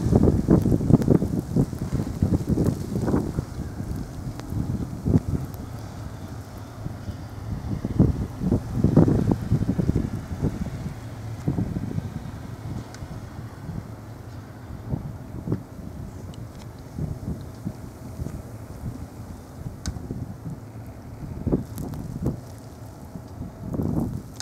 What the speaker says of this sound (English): we got a little clipper slash blizzard running through the Picker Hood